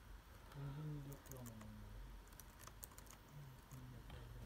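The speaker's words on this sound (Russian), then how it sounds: "Давайте сразу пройдем к тесту клавиатуры." Keys tapped on a laptop keyboard during a keyboard test, giving light, rapid clicks over a steady background hum, fairly faint and close.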